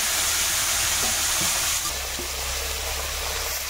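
Parshe fish fries in hot oil in a wok, a loud continuous crackling sizzle throughout, with a couple of soft utensil taps, close by and no speech.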